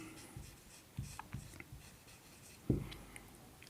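An English sentence being written on a board during a tense lesson, a few scattered scratchy strokes with one louder tap near the end, quiet and close, without speech.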